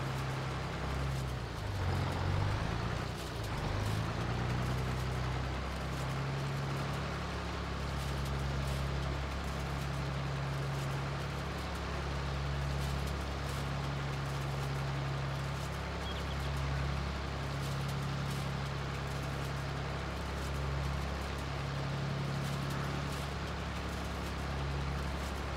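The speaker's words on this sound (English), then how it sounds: "Okay, so shut that tractor off." A tractor engine runs in Farming Simulator 22, a steady low drone with a strong bass hum that holds at an even level for the whole stretch, with no talking over it.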